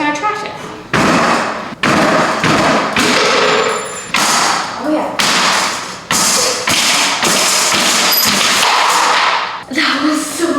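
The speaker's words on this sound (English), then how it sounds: "We just need to break it in small enough pieces that we can carry." An old, already failing wooden bed frame is smashed apart into pieces, with a rapid series of loud, close cracking thuds and heavy bangs separated by short pauses, and voices in between.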